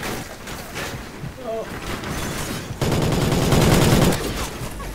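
Gunfire in Call of Duty Ghosts, a dense steady rattle of shots that swells louder partway through and then eases, mixed with game noise and voices.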